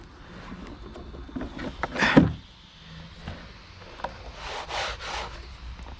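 A cloth wiping the body shell of a Traxxas Maxx RC car: close, soft rubbing strokes, with one louder swipe near the middle and lighter hissy passes toward the end.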